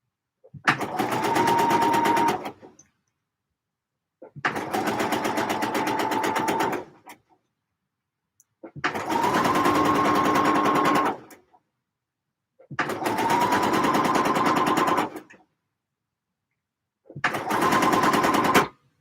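A sewing machine stitches a pleated and gathered skirt in five separate bursts of steady whirring, each a few seconds long with short silent pauses between, close and clear with no talking.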